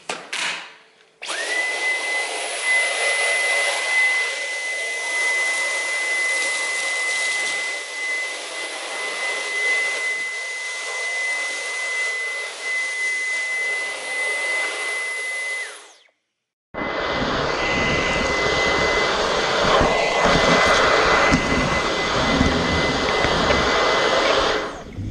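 A Dyson V11 cordless vacuum cleaner whines loudly and steadily while picking up Cheerios, cuts out briefly, then resumes with a rougher, rattling pickup sound.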